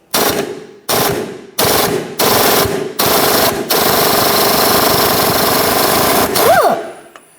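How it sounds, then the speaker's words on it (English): Power tool with a 16mm socket loosening the tie rod bolt on a 2007-2013 Mini Cooper gives several sharp, loud, short rattling bursts, then a long continuous hammering run that winds down. "I'm going to use an 16mm socket"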